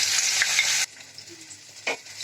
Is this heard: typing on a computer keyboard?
no